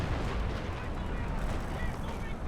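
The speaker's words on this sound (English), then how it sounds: "Must be major artillery coming in there." Artillery fire in Company of Heroes 2, a dense rumble of low booms and blasts rolling continuously at moderate loudness while a commentator talks over it.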